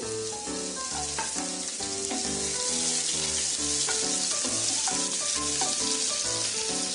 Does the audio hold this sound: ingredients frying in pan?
yes